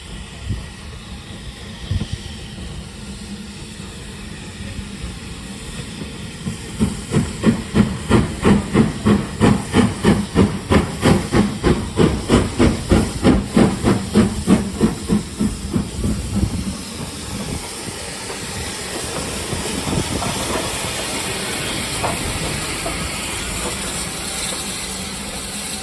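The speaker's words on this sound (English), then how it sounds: "Little steam engine." A steam locomotive at Goathland train station lets off a loud, steady hiss, with a rapid rhythmic chuffing building in the middle before settling back into a continuous blow of steam.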